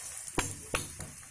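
Paratha stuffed with leftover potato and keema frying in ghee on a griddle, a steady close sizzle broken by three quick scraping taps of a spatula.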